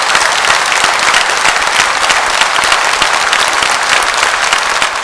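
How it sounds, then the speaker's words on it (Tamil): Applause from the audience at a Houston stage show, a loud, dense roar of many hands clapping that continues evenly for several seconds, close and full with no talking over it. "அவங்களுக்கு ஒரு பெரிய கரகோஷம் ஒன்று கொடுங்க."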